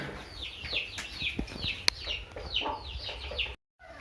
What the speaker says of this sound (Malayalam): നമ്മൾ നാടൻ കോഴി ഇപ്പോൾ ഒരു കന്നിക്കോഴി ഇവിടെ അടവെച്ചു